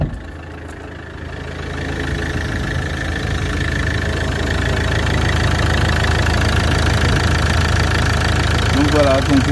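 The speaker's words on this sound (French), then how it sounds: "je vais faire tourner un petit peu le moteur" A Fiat Ducato camper van's diesel engine idles with a steady low rumble and a light rhythmic knock. It continues at an even level throughout, with a brief voice at the end.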